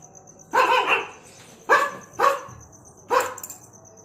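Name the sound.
man imitating dogs barking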